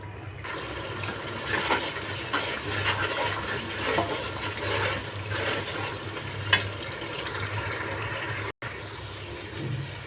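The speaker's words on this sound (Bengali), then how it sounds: "এখন আমি কষিয়ে নিব মশলাটা।" Spice masala with green chilies sautéing in a pan for chicken curry, a steady bubbling, hissing sizzle with faint stirring, close and continuous, with no talking.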